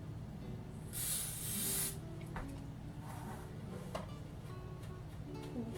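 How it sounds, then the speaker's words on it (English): Spray glue from an aerosol can hisses in one sharp burst of about a second during a craft project, followed by quieter rustles and small taps against low background hum. "Let's spray my glue."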